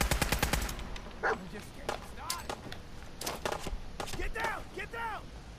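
Rapid gunfire in modded Fallout 4, a fast string of shots up front followed by scattered single reports, with a voice talking over the fight.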